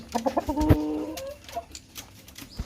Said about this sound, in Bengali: এটা এত বড় মোরগ